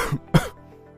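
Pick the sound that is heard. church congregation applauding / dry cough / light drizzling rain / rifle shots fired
dry cough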